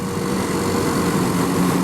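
Two classic motorbike engines thrum together on a ride along Loch Ness, a continuous, rough, low rumble heard close up while riding, with no talk.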